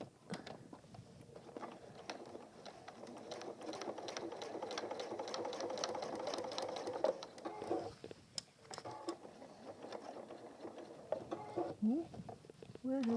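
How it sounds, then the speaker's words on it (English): A sewing machine stitching a messenger bag in a home workshop runs in a steady, quiet mechanical whir for several seconds, then stops amid faint handling clicks while a person talks softly. "you're going to sew as close as you can to the top there and then across"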